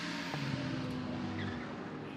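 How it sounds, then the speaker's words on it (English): A race car rolls into the pit lane during a 24-hour endurance race in Barcelona, its engine and tyres producing a short, continuous drone with a faint squeal, moderately distant. "Car is just arriving"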